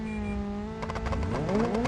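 Race car engines revving at a rallycross start in the BeamNG driving game, a steady loud engine drone with rising rev sweeps and crackling bursts in the second half as the cars launch.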